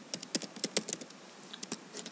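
Quick, uneven keystrokes on a computer keyboard, about a dozen crisp taps in two seconds, close and moderately loud with no speech.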